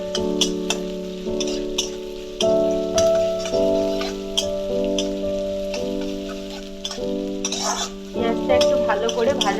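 Onions frying in mustard oil for a bean mash, stirred in a pan with a steady sizzle and scraping, close up, under a sustained hum of tones.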